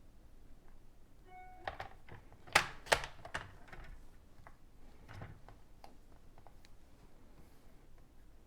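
Thin strip of paper being trimmed at both ends for a stamping craft project: a few quiet, sharp snips and clicks, with two louder cuts in the middle, close and faint, no talk.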